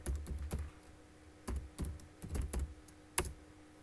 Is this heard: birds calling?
no